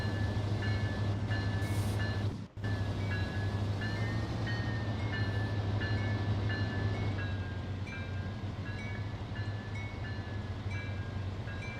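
A heavy freight train runs uphill in Trainz Railroad Simulator 2022, a steady low engine drone with a faint whining tone and track rumble, continuous and loud apart from one brief dropout.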